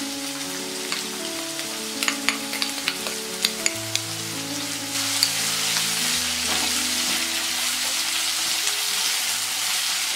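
Small sambar onions fry with salt in a pan for onion chutney, giving a steady close sizzle, with several sharp stirring clicks early on before the frying swells a little louder.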